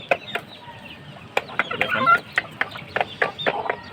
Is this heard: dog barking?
no